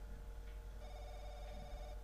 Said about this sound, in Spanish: Se oye el teléfono, vamos a ver.